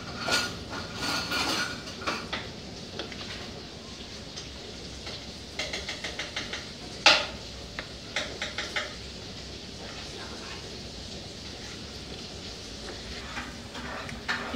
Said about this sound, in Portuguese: Aí rapa com a colher.